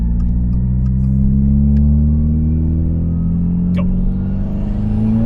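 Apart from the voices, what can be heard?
2022 Subaru WRX engine revving with Perrin intake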